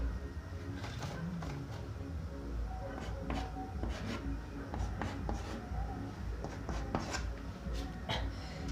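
A maths teacher writes on a board during a class 12 lesson. Quiet, intermittent scratchy strokes come in short bursts against a soft room hiss.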